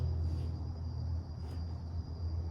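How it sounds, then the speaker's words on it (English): Crickets chirp steadily in a quiet nighttime outdoor setting beside a hot tub that has just shut off, a continuous high, faint trill running alone over low background hum. "Now you can hear the crickets."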